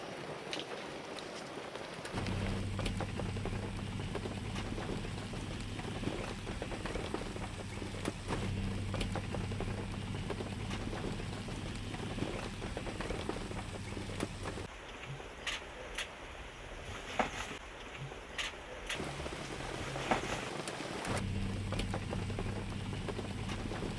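Steady rain pattering down continuously in Arusha National Park, Tanzania, with a low hum underneath and occasional louder drops.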